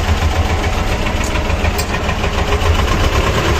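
A vehicle engine that has not yet warmed up runs steadily at close range while the gears are shifted, a continuous low rumbling idle with no pauses.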